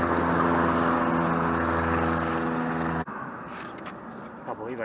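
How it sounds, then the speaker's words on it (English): Aircraft flying overhead on a coastal hike, a loud steady droning engine hum with strong tonal harmonics for about three seconds before cutting to rougher wind and outdoor noise. "A lot of aircraft traffic, private charters, helicopters and the like."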